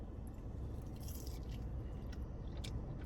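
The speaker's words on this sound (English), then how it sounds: "I got a little crunch." Crunchy bite into a sandwich with relish, jalapeno and mayo, followed by close, wet chewing and squishing over a steady low background hum, with no talking.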